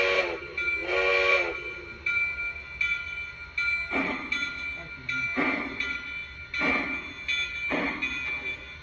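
A Lionel model steam train runs with its whistle effect sounding in repeated short and long toots. A steady mechanical hum from the running locomotive sits under the toots, and a voice is briefly heard early on.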